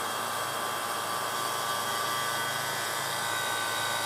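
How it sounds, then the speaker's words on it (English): Vacuum pump runs while evacuating the A/C system of a 1989-1995 Toyota pickup, a loud, steady, hissing mechanical drone that holds unchanged throughout with no talking. "Turn on the pump. open the valves."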